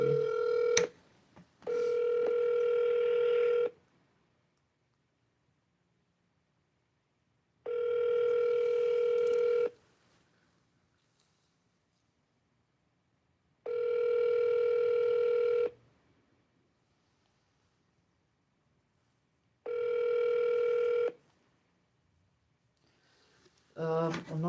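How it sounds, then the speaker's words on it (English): A phone call ringing out, with four long ringback tones spaced evenly about six seconds apart, clear and alone, preceded by brief dialing blips. "Let's call them again."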